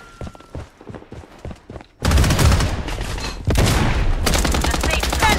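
Bloodstrike gameplay gunfire: after a quiet opening of scattered thuds and faint talk, loud sustained bursts of automatic fire erupt and continue in close, dense volleys.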